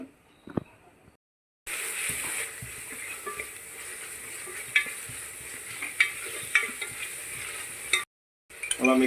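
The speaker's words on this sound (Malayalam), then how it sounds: "നമ്മൾ മിക്സ് ചെയ്ത് വെച്ച മസാലയും തൈരും അരച്ച് വെച്ച പേസ്റ്റും കൂടെ നമ്മൾ സവാളക്കകത്തോട്ട് ആഡ് ചെയ്ത്" Masala, yogurt and ground paste being stirred into onions frying in a pan for a bachelor's pulao, a steady sizzle with scattered clicks of the spoon against the pan, cut by brief silent gaps.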